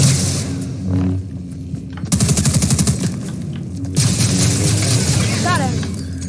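E11 blaster fire in a Star Wars video game, rapid bursts of laser shots with booms and game effects, overlapping with talk.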